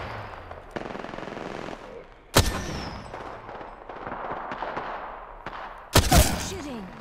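Automatic gunfire in the video game Apex Legends comes in rapid bursts, with two loud, sharp blasts standing out over a continuous clatter of shots and game sounds.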